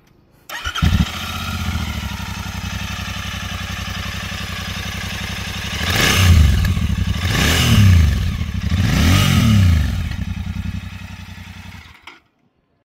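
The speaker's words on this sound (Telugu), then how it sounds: "బైక్ ఎగ్జాస్ట్ సౌండ్ విందాం." A Royal Enfield Continental GT 650 exhaust idles steadily up close, then is revved three times in quick succession with a rising and falling roar before it settles and cuts off. No voices.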